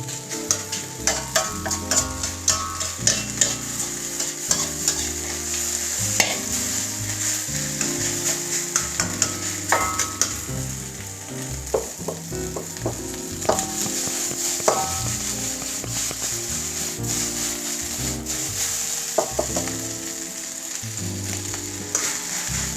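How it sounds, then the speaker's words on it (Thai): Shrimp fried rice stir-fries on high heat with a steady loud sizzle, overlaid by frequent clatter and scraping of a spatula against the pan throughout, with no voices. "หลังจากที่เราใส่ข้าวไปแล้วปรับเป็นไฟแรงครับ"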